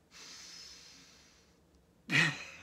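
A slow, audible breath drawn in during a yoga session, a soft airy inhale lasting over a second, followed after a brief pause by a louder, sharper breath or sigh close to the microphone.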